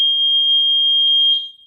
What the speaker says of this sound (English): Let's see how annoying the beep is.